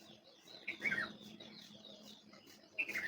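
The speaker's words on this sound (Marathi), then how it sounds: "सकाळची सुरुवात गोड अशा पक्ष्याच्या आवाजाने झाली" Birds chirping outdoors in the morning, two short bright calls a couple of seconds apart over a quiet background.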